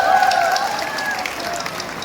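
Audience clapping at a stage event during a community meet, a dense, steady patter under a voice on a tonal PA line, with music or speech faintly threaded through.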